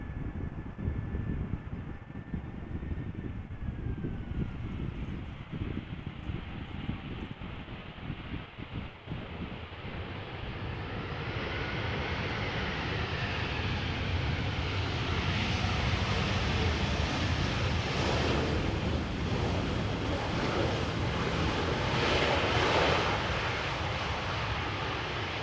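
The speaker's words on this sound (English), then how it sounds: "Here's the beautiful Azzurro from ITA Airways." An ITA Airways airliner in its Azzurro livery rumbles at a distance with a low, wind-buffeted roar. The noise swells into a steady broadband jet wash and a faint whine as it draws nearer.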